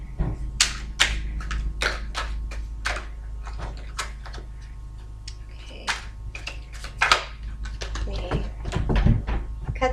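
Tarot cards shuffled by hand in a run of crisp riffling and slapping bursts, close and fairly loud, with a steady low hum underneath and brief pauses between shuffles.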